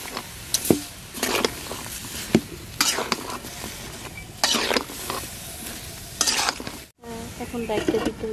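Dried fish curry being stirred in a pan without oil, with repeated scraping strokes of a spoon against the pan over a low sizzle, in uneven bursts with a short pause near the end.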